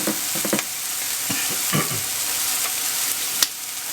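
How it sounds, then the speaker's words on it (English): Onions dropped into a hot pan with wild mushrooms outdoors, crackling into a steady sizzle with several scraping stirs and one sharp knock near the end, close and without speech. "pop the onions in"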